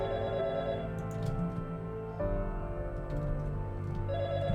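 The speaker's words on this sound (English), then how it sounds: "that's her getting the phone call" A phone rings in the game Fragments of Him, with a steady electronic ringtone tone pattern shifting pitch partway through, set over a sustained musical background without talk.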